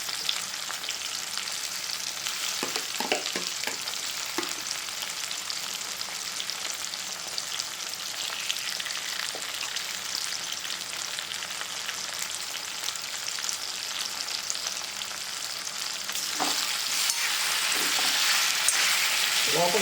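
Stuffed bitter gourd frying in a pan, a steady close hiss of oil with scattered scraping and tapping as the pieces are gently stirred, the sizzle growing louder toward the end.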